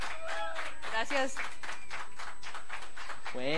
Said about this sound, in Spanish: Bueno, fuerte el aplauso para aquí, para nuestra amiga.